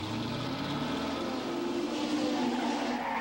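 Keke Rosberg's number 6 race car at Long Beach runs off the track, its engine a steady, close roar with a faint tire squeal.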